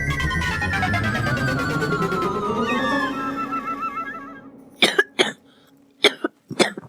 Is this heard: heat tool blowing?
no